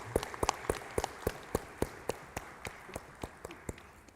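Sparse, slow hand clapping in a conference hall at a health business dialogue in Ahmedabad, a few hands beating an uneven rhythm that thins out and fades toward the end, with no voices over it.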